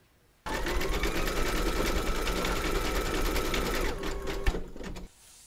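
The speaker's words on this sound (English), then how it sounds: "Load your thread colour for the back of the mouth into your machine and then stitch round number 6" An embroidery machine stitching in wine red thread runs at a steady, loud, rapid mechanical rhythm for several seconds, then slows and stops with a clunk before near silence.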